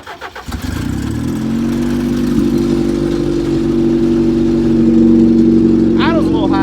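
A Toyota Wolverine truck cranks briefly and catches, then settles into a loud, steady, slightly high idle close by, with the engine's tone rising a little near the end and a voice briefly heard over it.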